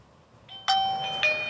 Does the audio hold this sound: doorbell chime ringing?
yes